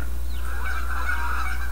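Geese honking in the farming video game Farming Simulator 2013, a few nasal honks over a loud constant low hum, fairly close.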